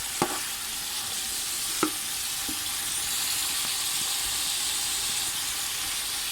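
Meat sears and browns in a pan for a chicken korma karahi, giving a continuous close sizzle and hiss with a few sharp scraping stirs of a spoon against the pan.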